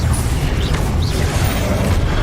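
Incendio fire spell cast in Hogwarts Legacy, a steady loud whooshing, rumbling burst of flame with a deep low-end roar sustained throughout, with faint swirling magical tones above.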